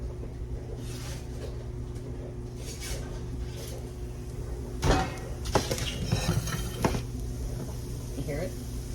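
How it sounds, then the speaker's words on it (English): Roasted butternut squash pieces are stirred in a hot pan, giving a few scraping, clattering strokes of utensil against metal over a low background hum. "So I'm just gonna give those a quick stir"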